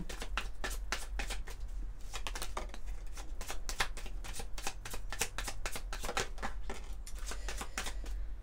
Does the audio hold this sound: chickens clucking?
no